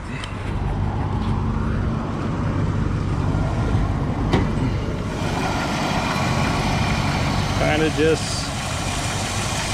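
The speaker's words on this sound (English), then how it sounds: "It's idling a little high." A 1966 Ford Mustang coupe engine idles steadily at a raised, constant pitch, loud and close, with a person talking briefly over it.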